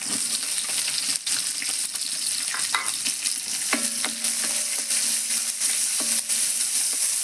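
Garlic, ginger and onions fry in a pan with a steady, close sizzle that runs throughout, broken by occasional stirring scrapes and a few brief tonal squeaks.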